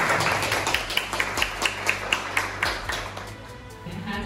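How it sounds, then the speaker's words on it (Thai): Rhythmic clapping from an audience applauding contestant Sirinan at a 2020 English and Chinese language skills competition in Yasothon, Thailand; a steady run of evenly spaced claps over a crowd murmur, fading slightly toward the end. "ขอเสียงปรบมือให้สิรินันด้วย"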